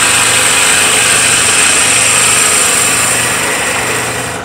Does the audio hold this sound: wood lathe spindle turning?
yes